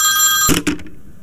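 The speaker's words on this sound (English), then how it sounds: "Oh, dear me. The phone." An old telephone bell rings in a radio drama: one sustained ring, then two short bursts that cut off into quiet.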